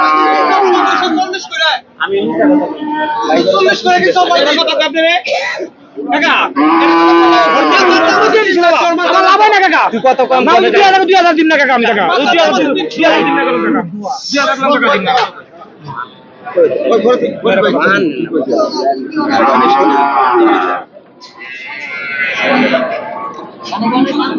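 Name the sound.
Friesian dairy cows at a cattle market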